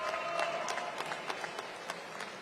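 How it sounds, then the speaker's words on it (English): Crowd applause at a live press event, moderately distant clapping that thins out into scattered individual claps. "Give Kenyon and Phil a big round of applause."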